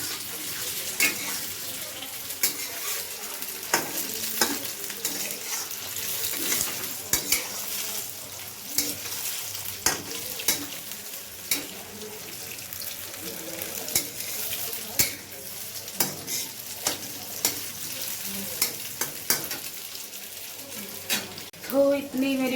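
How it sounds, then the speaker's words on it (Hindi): Chicken leg pieces frying in a pan at home, a steady sizzle under repeated scraping and stirring of the utensil, with clinks of a spatula near the mic and no talking. "बाकी की हो रही है अभी फ्राई"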